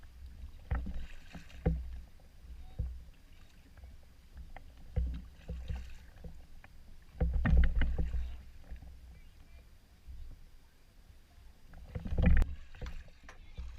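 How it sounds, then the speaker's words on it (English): Kayak paddle strokes dip and splash through shallow water on a Fort Fisher crossover, landing as repeated close, low thuds and swishes at an uneven pace with some wind across the microphone. "Shallow. Makes it very tough to even paddle."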